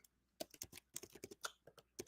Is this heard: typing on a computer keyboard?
yes